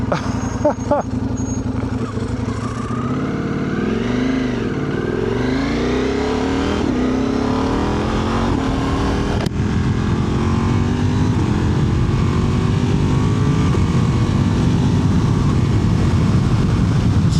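A Ducati Multistrada V4 RS motorcycle engine pulls through its gears on the road, pitch rising and falling with each shift, steady and fairly loud with wind noise and no talking.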